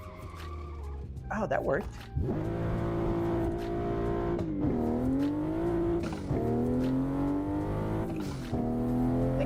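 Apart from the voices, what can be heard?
car skidding with handbrake turn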